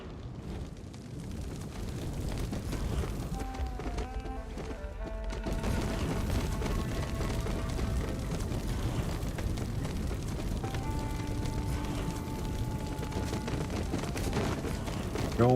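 Grenade explosions from the video game Soulmask rumble in a dense, continuous barrage under layered game tones and music, loud and sustained throughout.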